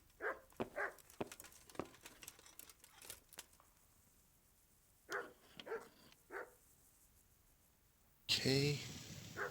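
A dog in Kingdom Come: Deliverance lets out several short, sharp barks in scattered pairs, followed near the end by a louder, harsher burst of sound.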